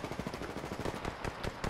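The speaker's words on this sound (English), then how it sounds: "Shots fired in there." Rapid bursts of automatic gunfire rattle steadily in a multiplayer shooter video game, with dense, evenly spaced shots at a moderate distance and no voices.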